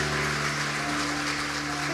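A church congregation applauds in worship, a steady, dense wash of clapping that fills the space evenly throughout, with a faint sustained tone running underneath.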